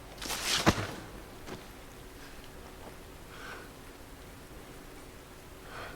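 Rain in the video game Kingdom Hearts χ Back Cover, a soft steady patter under a few sharp transient hits near the start and faint scattered sounds later, with no talk.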